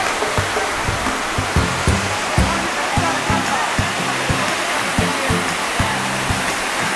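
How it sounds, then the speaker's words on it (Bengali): Vasudhara waterfall roars as a loud, steady wash of spray and falling water close by, with faint speech-like tones in the background. "কাছাকাছি আসতেই ঝর্ণার জল বেশ গায়ে পড়ছে"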